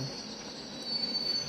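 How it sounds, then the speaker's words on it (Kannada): A train in the video game Indian Bikes Driving 3D rumbling along with a high, sustained wheel squeal over steady low rumble, moderately faint, no voices. "ಓ ಟ್ರೈನ್"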